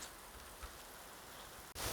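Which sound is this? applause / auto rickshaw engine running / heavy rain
heavy rain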